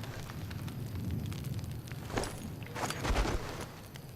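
Fire crackles and roars in Sniper Elite 3, a low steady burning rumble with a couple of brighter flare-ups and pops midway.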